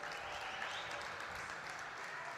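Crowd applause at a SUNY Oswego women's ice hockey senior recognition, as a senior player and her family walk across the carpet: steady, even clapping from a fairly distant arena crowd, heard alone at moderate level.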